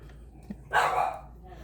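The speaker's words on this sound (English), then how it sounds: "Say hello to my dog." One short, mid-level bark from a dog indoors during a monitor unboxing, standing out briefly against quiet room noise.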